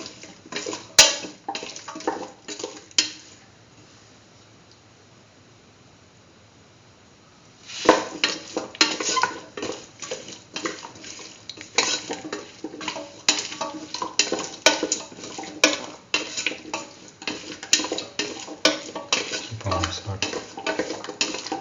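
Spoon stirring a pumpkin, beef and rice mixture in a pan, a busy run of scraping, clinking strokes close up, with a quiet pause partway through before the stirring resumes steadily to the end.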